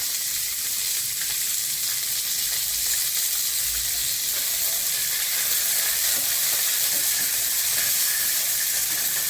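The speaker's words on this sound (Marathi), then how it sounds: "वाटाणे आपण तेल तापलं की त्याच्यामध्ये वाटाणे टाकून घेऊ।" Fresh green peas sizzle in a little hot oil in a pan, a steady, close, dense hiss with faint crackles that runs without a break.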